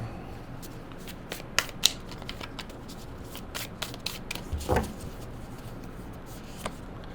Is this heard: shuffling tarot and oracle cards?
yes